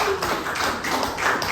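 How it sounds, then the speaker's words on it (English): Audience clapping at a comedy show, a steady patter of many hands filling the room at close range, even and sustained without pauses. "Clap it up for yourselves."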